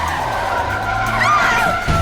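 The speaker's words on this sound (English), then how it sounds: "slammed both feet on the brakes" A car brakes hard and its tires skid, a loud sustained screech over engine rumble in an audio drama, bending in pitch as it slides, then a low thump at the end.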